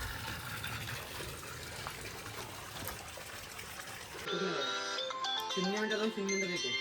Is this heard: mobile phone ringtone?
yes